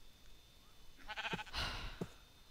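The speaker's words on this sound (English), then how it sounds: "well, there's sheep right there" A sheep in the video game Minecraft gives a couple of short, quiet bleats, about half a second apart. The background is otherwise hushed.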